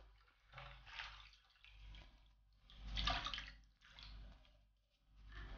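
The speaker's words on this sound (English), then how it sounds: "You will need to add a little bit of water" Water poured into a pan of Greek yiouvetsi in a home kitchen, splashing in several uneven bursts separated by short quiet gaps, close by and moderately loud, with no talking.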